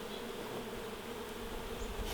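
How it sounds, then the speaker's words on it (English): Steady, dense buzzing of many returning worker honey bees, agitated and close, from a hive being removed from inside a garage wall, continuous with no voices. "These are all returning worker bees, so they're a little bit feisty."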